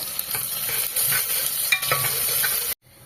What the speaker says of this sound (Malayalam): ഇതിലേക്ക് 2 സവാള ചെറുതായിട്ട് അരിഞ്ഞത് ഇടുക. എന്നിട്ട് ചുമന്ന നിറം തന്നെ വരെ വഴറ്റുക.